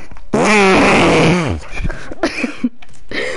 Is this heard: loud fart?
yes